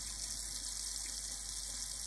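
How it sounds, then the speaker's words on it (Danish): Running water pours steadily from a tap, a continuous hiss that stands in for bacon frying in a pan, close and even with no voices. "Lyden af rindende vand kan også være lyden af bacon,"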